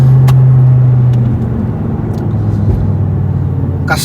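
An Audi R8 with a V10 engine and custom loud exhaust holds a loud, deep, steady drone close by, its tone shifting slightly partway through, with a faint higher rasp near the end.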